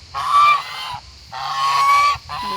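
Geese at an animal refuge give loud, close, nasal honks in three drawn-out bursts as they chase other birds.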